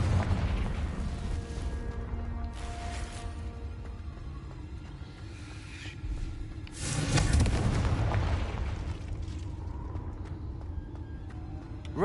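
Blasting Confringo spell explosions from a Harry Potter video game, a steady rumbling bed with booming bursts around seven seconds, loud and close, with musical tones running underneath.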